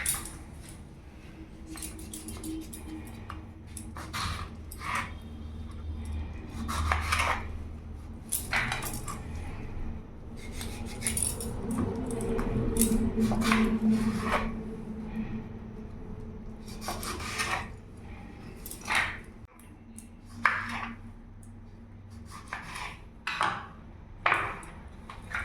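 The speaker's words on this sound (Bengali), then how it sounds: "সব টমেটো আমি কেটে নিয়েছি।" A knife slices washed tomatoes on a cutting board while tomato soup is being prepared at home. Irregular soft chops and rasping cuts repeat at a moderate pace, close up, with brief pauses between strokes.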